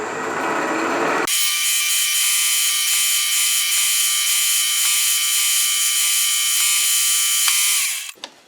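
A 5/16 inch drill bores into a workpiece for a ball turner build, a steady high whine that starts abruptly, holds at close range for about seven seconds and then winds down.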